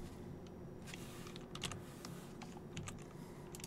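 Quiet, irregular clicking of a computer keyboard as someone types C# code in Unity, with short runs of keystrokes separated by brief pauses.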